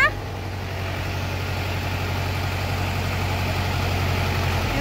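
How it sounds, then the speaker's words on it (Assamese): A tractor engine idles steadily nearby at a rural home, a constant low throbbing drone that runs unbroken throughout with no talk over it. "ট্ৰেক্টৰে মাতি পেলাই আছে"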